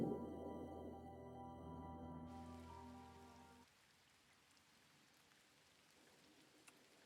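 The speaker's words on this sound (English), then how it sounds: "Still raining." Steady rain falls in the farming video game Coral Island, a soft continuous patter that carries on alone after a tonal musical passage fades out partway through.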